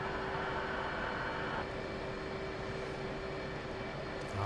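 An F-15E Strike Eagle jet takes off in the flight simulator DCS, a steady roaring engine drone with a tonal whine that shifts partway through, continuous and moderately loud.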